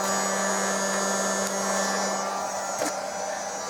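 A heat gun blows a steady, loud whirring roar close by while warming the body panel of a Vauxhall Corsa for debadging, with a couple of faint clicks.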